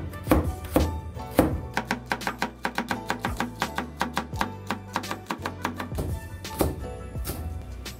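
A knife cuts radish into slightly thick pieces for Korean beef and radish soup, making a quick run of crisp, even chops on a board, with denser clusters at the start and end and a faint tonal hum underneath.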